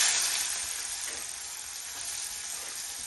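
Onion, green chillies and curry leaves frying in hot oil, giving a steady, bright hiss that is loudest at the start and then holds evenly, with no voices.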